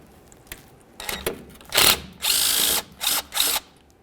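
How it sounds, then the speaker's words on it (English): A powered ratchet or drill-type tool whirs in several short bursts, removing the ground wire mounting bolt on the power steering rack of a 1999–2006 Chevrolet Silverado 1500. The bursts are loud, close and grow longer toward the end, with no talk. "Use a 10mm to remove the mounting bolt."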